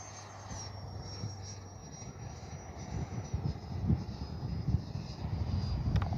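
An FMS Integral 80mm RC jet landing with gear down, its thin high ducted-fan whine holding steady over low rumbling wind and handling noise, fairly faint and distant.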